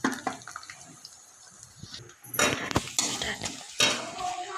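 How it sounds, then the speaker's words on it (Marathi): Spoon scraping and clinking in a metal pot while spices are stirred into simmering khichdi, with irregular close scrapes and a soft sizzle that grow louder and busier in the second half. "पुन्हा एकदा मिक्स करून घ्यायचं"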